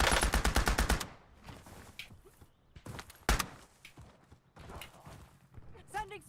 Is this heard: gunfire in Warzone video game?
yes